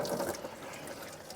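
Water draining out of an abandoned Ford backhoe, a quiet continuous trickling and gurgling flow heard close up, faint and steady with no talking over it.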